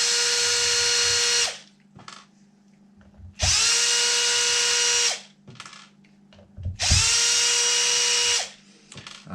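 A power drill runs three times in long, loud whirring bursts, spinning out the screws on a Losi DBXLE 2.0 RC car's paddle tires, with short clicks and handling noises in the pauses.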